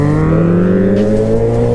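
A 2021 Suzuki Hayabusa motorcycle accelerating on an open road, its loud engine droning steadily and close with a strong low harmonic hum that rises slightly in pitch throughout.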